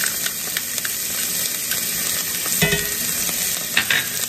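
Garlic sizzles in butter in a skillet, a steady, close frying hiss with soft crackles and a brief stir around the middle.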